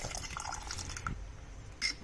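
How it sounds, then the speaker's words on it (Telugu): Water trickles and splashes softly into a pressure cooker, faint and steady, with a few small drips. "ఇప్పుడు మరికొన్ని నీళ్లు పోస్తున్నాను"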